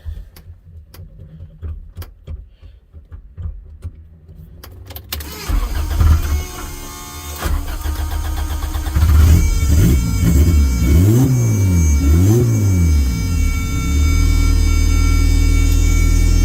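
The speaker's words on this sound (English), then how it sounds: "You can hear the fuel pump is stupid loud" A few faint clicks, then a turbocharged Honda B18-swapped car engine cranks and catches, idling loudly and revving up and down in several surges, with a loud fuel pump's steady whine underneath.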